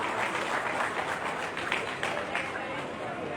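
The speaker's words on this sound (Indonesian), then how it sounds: "Kita berikan tepuk tangan sekali lagi hadirin sekalian." Audience at a welcome event applauding together, a steady dense patter of many hands clapping at moderate distance, fairly quiet, with voices mixed in.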